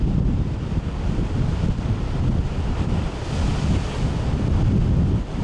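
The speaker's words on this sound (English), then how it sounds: "Whoa, it's really windy out there" Strong wind roars continuously across the microphone on a coastal peak in Malta, a steady heavy rumble with constant buffeting and no voices.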